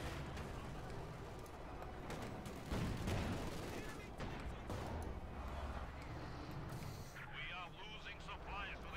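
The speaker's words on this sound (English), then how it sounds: "mortar firing down still" Mortar rounds fire in a video game battle, with dull distant thumps and booms over a continuous din of gunfire and battle noise, and a voice talking throughout.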